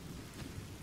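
A steady wash of rain with a low thunder rumble fills a short moment in The Forest survival video game, with no voices.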